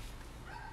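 A puppy gives a short, faint yip or bark, brief and somewhat distant, over low background hum in a home.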